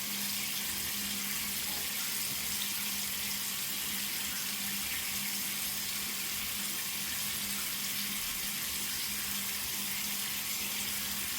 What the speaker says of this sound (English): let me just stop talking and wash my face real quick